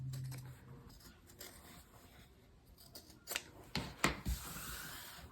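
Scissors snip through the sewn fabric corners of a journal cover, a few quiet rubbing and cutting sounds followed by sharper, louder snips near the end.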